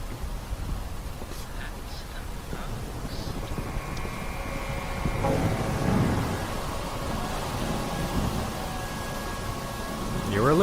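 Heavy rain pours down steadily in a forest while a deep rumble of thunder swells in the middle and builds again at the end.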